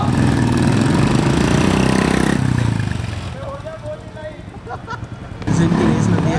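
Motorcycle engines roar loudly at the start of a college bike race, then fade as the bikes pull away before another engine surges back nearby, with voices and crowd noise underneath.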